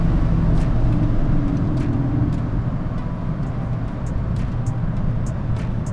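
Volkswagen MK6 GTI held at full throttle on a top speed run over a bumpy downhill road, a steady loud interior drone of engine, wind and road noise with no let-up.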